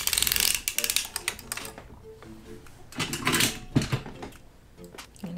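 A circular sock knitting machine with 60 stitches is cranked by hand, giving close, bursty clicking and ratcheting runs separated by short pauses, with softer mechanical taps between them.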